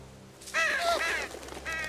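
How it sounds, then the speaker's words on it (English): Birds cawing in the video game The Walking Dead: a cluster of harsh, crow-like calls over a low ambient hum, close and fairly loud, repeating in short bursts. "Birds, okay."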